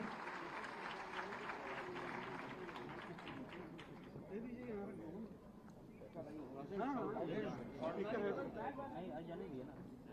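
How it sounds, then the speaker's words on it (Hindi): Audience applause at a women's award and honouring ceremony greets an arriving guest: steady clapping fills the hall for most of the stretch, with voices rising and talking over it toward the end. "आप जोरदार तालियों से उनका भी अभिनंदन करिए"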